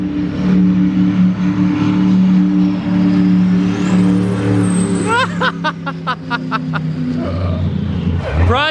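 A twin-turbo Lamborghini races past on a timed lap in a loud, rising engine roar that swells to a close pass and fades, with crackling gear shifts near the end, under excited voices of onlookers.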